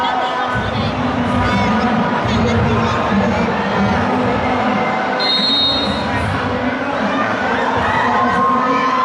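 A packed crowd at a ball match cheers and shouts continuously, a dense, loud roar with children's high-pitched yells mixed in.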